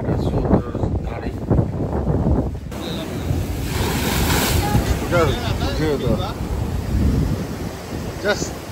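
Heavy sea surf breaking on the shore beside a seaside temple at Dwarka, a steady broad roar with wind buffeting the microphone and faint voices talking in the background.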